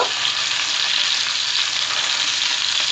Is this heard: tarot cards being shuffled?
no